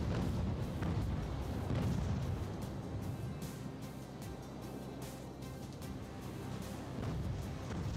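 Ship cannon fire in the naval game Ultimate Admiral: Age of Sail, repeated heavy booms and rumbling broadsides in a dense, continuous barrage, some closer and louder, others distant.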